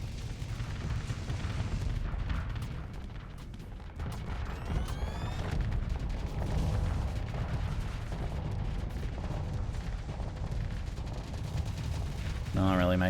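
Ships firing weapons in the space game Starsector, a steady rumble of booming shots and artillery-like blasts running continuously under a low, busy mix.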